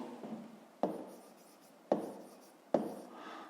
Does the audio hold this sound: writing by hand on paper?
yes